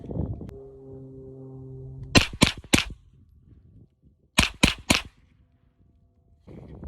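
Two quick bursts of three sharp 9mm carbine shots at an outdoor shooting range, loud and close with short gaps between bursts and quiet between them.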